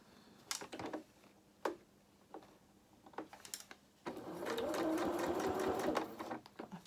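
Sewing machine stitching fabric for a doll's dressing gown: short bursts of needle rattle separated by pauses, then a longer continuous run of stitching near the end, with no talking.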